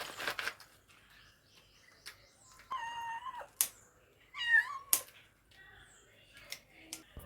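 A village house cat meows near fish being cut and cleaned, with two or three distinct drawn-out meows and a few sharp clicks, fairly quiet and close against a still background.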